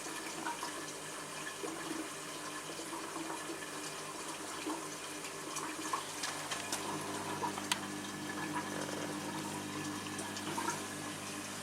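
Hotpoint washing machine filling with water in wash mode, a steady faint hiss and trickle of inflowing water with soft gurgles and occasional small clicks, continuous and fairly quiet, no voices.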